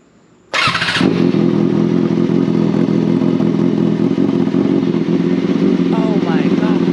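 Kawasaki Ninja ZX6R fitted with a custom exhaust, not fully bolted on, fires up with a sharp loud start and settles into a steady, rough, close idle that runs for several seconds, with faint voices near the end.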